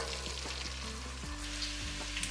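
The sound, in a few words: chopped onions sautéing in melted butter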